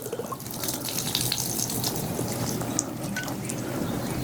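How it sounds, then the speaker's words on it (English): Water pours and splashes out of a mosquito trap as it is tipped and emptied, a steady close trickle with a few scattered drips and no talking. "let me dump the water out of here"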